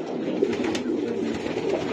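Racer pigeons coo at a pigeon farm, with soft, low, rolling calls repeating close by over a steady murmuring background and no talk.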